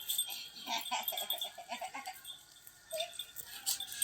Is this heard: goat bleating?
yes